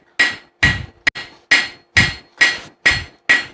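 A hammer strikes hot steel while forging a tomahawk drift, eight loud, ringing blows at a steady pace with one quick double hit, each blow sharp and close.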